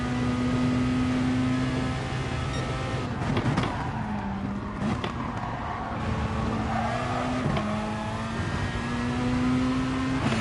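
Lamborghini race car engine in a racing game, a steady droning tone that climbs with shifts and dips under braking, close and constant, with brief rasping bursts mid-way and no voices.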